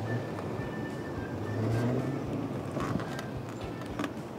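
A Filipino-made, expressway-legal electric big bike accelerating on the road, its motor a low rising whir mixed with rushing wind noise, close and fairly steady.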